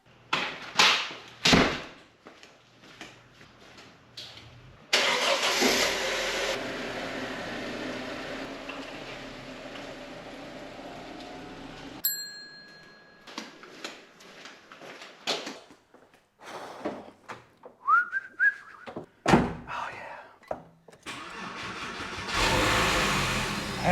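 A Porsche 911 engine cranks and starts, then revs in several uneven bursts amid clunks and handling noises. An idling rumble runs between the revs, and a loud rise comes near the end.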